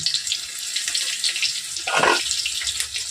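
Water pours into a kitchen bowl while cooking chili chicken, a close splashing gush that rises briefly and then eases, over faint background kitchen noise.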